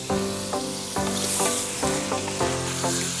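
Fried toman fish sizzling in a spiced broth, with a steady loud frying hiss broken by repeated stirring or scraping strokes at a regular pace, no voices.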